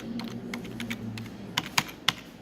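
Computer keyboard keys tapped while entering a number into a PHP web form field, a quiet run of light clicks with a few sharper, louder keystrokes near the end.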